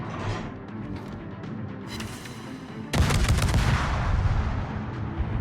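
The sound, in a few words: gunfire in a video game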